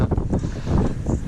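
Gusty wind buffets the microphone out on the water during a cold, muddy winter crappie fishing trip, making a loud, uneven rumble that rises and falls throughout the brief moment.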